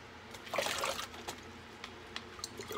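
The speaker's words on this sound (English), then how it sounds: "Follow that with a cup of water." Water trickles and splashes from a cup onto steaks for a grill, a short close pour followed by a few faint drips and small splashes.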